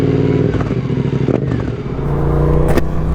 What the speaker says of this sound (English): Once the exhaust is warm on the 8S, it sounds so much better.